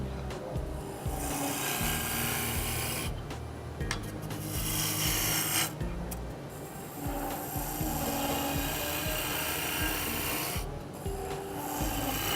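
A small roughing gouge cuts a spinning wooden cup on a lathe, giving a continuous close rasping scrape with a low motor hum beneath, broken by a few brief pauses as the tool lifts away.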